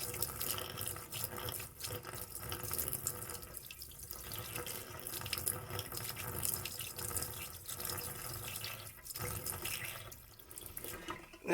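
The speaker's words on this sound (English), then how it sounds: "pour some down the drain for the trap that's there" Water runs steadily into a sink drain at a cabin in November, a continuous splashing pour lasting several seconds with brief pauses, close and fairly loud.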